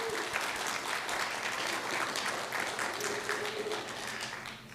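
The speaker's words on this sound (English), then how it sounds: "Let's give her a round of applause as well." Sustained applause fills a county board of commissioners' regular meeting as an award winner stands, a dense, steady wash of clapping from a room full of people lasting throughout.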